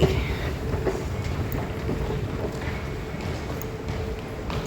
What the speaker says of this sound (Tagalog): So, nandito na tayo sa MRT.